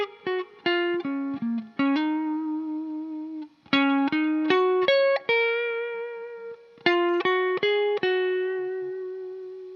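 Guitar playing the opening section of a song, clean plucked notes and quick melodic runs in short phrases with pauses, heard alone and close.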